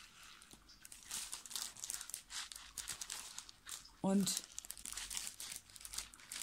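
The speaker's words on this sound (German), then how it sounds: "Ich weiß nicht, ob ihr das jetzt hören konntet durch das Geknistere hier." Crisp paper crinkling and rustling from an advent calendar's gift wrapping, close and loud, with a stronger crackling burst near the middle, under a woman's speech.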